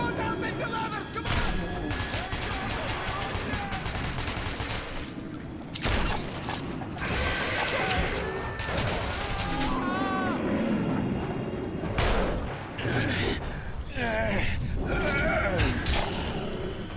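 Bursts of gunfire from the video game Metro 2033 Redux, rapid repeated shots and mechanical clatter under continuous loud game sound, with shouting voices and chaotic action throughout.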